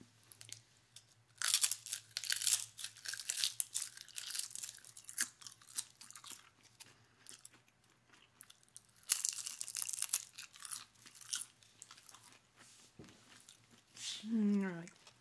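Crisp, close-up crunching and tearing of thin salty seaweed snack sheets being bitten and chewed in several bursts, with a soft voice speaking briefly at the end.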